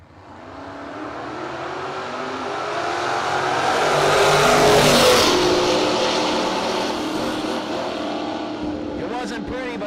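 LS-powered Oldsmobile drag car at a no-box drag race, loud engine roar building to a peak and then holding steady as the car runs down the strip, with a voice talking over the noise.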